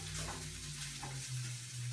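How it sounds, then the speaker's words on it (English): Potatoes sizzle steadily in a hot pan, a soft continuous crackle with a low hum underneath, close up and with no talking. "So we're gonna let this sit and sizzle"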